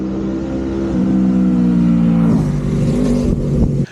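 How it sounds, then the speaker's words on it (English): A V4 motorcycle engine roars loudly and steadily while blasting down Spencer Mountain, its pitch shifting as the throttle rises and falls, close and continuous before cutting off sharply at the end. "V4 blasting down Spencer Mountain"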